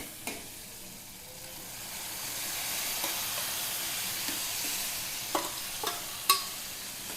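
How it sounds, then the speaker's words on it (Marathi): Cooked dal with turmeric and tomato is tipped into a hot kadhai and stirred, giving a soft continuous sizzle and hiss with a few sharp spoon scrapes and clinks near the end. "आणि ही डाळ आपण आता कढईमध्ये टाकणार आहोत।"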